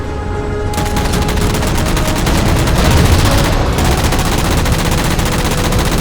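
Dense continuous gunfire in Halo 4 while shooting down three jammers, rapid automatic bursts and explosive booms blending into a loud, unbroken barrage.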